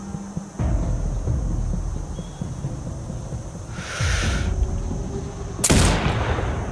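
Sniper rifle shots in the game Sniper Ghost Warrior Contracts 2, a few loud, widely spaced blasts with a hissing tail over a constant windy background hum, no one talking.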